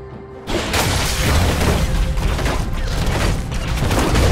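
Tristana's rapid fire on an explosive charge in League of Legends: a sudden onset of dense, loud crackling gunfire and booms that continues steadily to the end.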